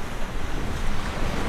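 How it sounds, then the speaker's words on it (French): Light breeze buffeting a shotgun microphone fitted with a furry windscreen outdoors, a steady low rumbling wash of wind noise with soft fluctuating gusts throughout, no voices. "Là aujourd'hui il y a une petite brise"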